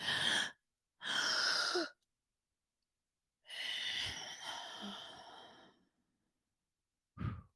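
Deep, forceful breaths drawn in and pushed out through the mouth: two long airy rushes, a pause, then a longer drawn-out exhale and a short final puff, close and loud with no talking.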